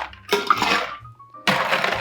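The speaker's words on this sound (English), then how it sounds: "we're going to put some ice in the shaker" Ice scooped into a cocktail shaker: two bursts of rattling, clinking cubes tumbling into metal, the first longer with a ringing tail, then a short pause before a second crunchy pour, close and fairly loud.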